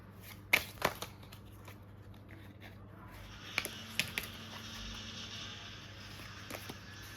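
Tarot cards being shuffled by hand during a pick-a-pile reading: soft, close riffling and brushing with a few sharp card snaps and taps, fairly quiet over a low steady hum.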